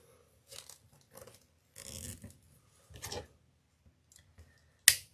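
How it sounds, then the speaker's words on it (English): Scissors snip off a loose end while a black and gold dragon wreath is being folded and assembled, giving several short crisp cuts in quick bursts, with a sharper louder snip close by at the finish. "Clip that end off."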